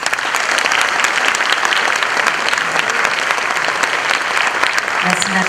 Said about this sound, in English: Can we keep the claps going